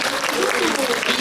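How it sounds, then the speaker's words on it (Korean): Spontaneous applause from a cinema audience at a film talk event at Megabox Sinchon: a dense, continuous wash of many hands clapping, with voices audible underneath. "이 자연 발생되는 박수"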